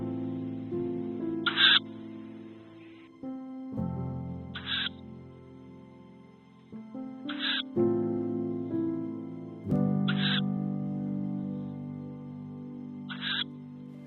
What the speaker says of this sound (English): Pluto starts calling, in the hope of an answer